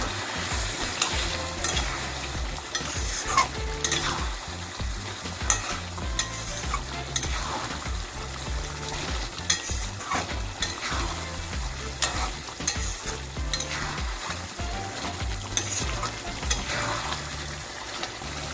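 Spice masala stirred into chicken karahi frying in a pan: steady loud sizzle with repeated scraping stirs at an irregular rhythm, close up, no talking.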